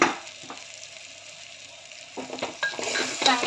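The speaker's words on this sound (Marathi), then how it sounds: "सोयाबीनच्या वड्यांना चांगल्या प्रकारे मसाला लागेल असं व्यवस्थित मिक्स करून" Boiled soya chunks and spices are stirred in a pan, with a soft background sizzle and occasional scraping stirs that grow busier and louder near the end, heard up close.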